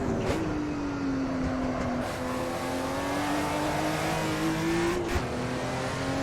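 Porsche 935 Moby Dick race car engine in the Assetto Corsa racing game, a continuous loud drone with a sustained tone that sags and climbs gently, with brief rev blips and tire noise.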